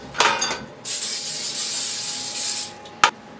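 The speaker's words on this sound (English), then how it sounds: "I'm going to spray the 2 circular pans. Ready? Spray, you don't need a whole lot." A few short sprays of cooking spray onto round cake pans hiss, followed by one long continuous burst and a final quick spritz, close and crisp.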